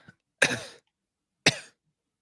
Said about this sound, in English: Gregor weakly coughs.